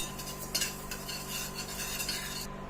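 Fenugreek seeds roasting in a pan give a faint, steady hiss, broken by light metallic clinks and scrapes of stirring, with no voices.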